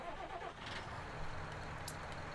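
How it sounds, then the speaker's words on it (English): A farm tractor engine in Farming Simulator 19 runs during fertilizing, a steady low rumbling drone, fairly quiet and even throughout with no talking. "This tractor."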